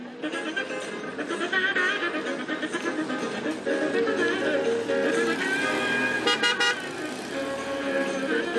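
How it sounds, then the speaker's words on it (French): Production cars are driven balanced on two wheels, with engines droning and revving loudly and continuously. Brief honks and a voice can be heard over the motor noise. "Admirez ces véhicules de série en équilibre sur 2 roues."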